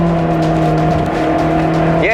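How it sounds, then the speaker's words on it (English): A Honda EP3 Civic Type R with its JDM engine revs hard, a loud sustained tonal engine note that holds steady and then climbs sharply at the end. "you get an engine that sounds like this"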